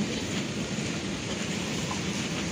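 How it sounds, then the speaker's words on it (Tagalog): Heavy rain pours down in a steady, dense hiss of falling water, constant and fairly soft throughout with no voices. "Buhos na ulan."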